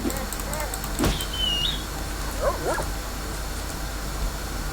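A dog in the video game S.T.A.L.K.E.R. (Oblivion Lost Redux mod) gives a few short barks and yips at moderate distance over a steady low background hum, with a person talking at times.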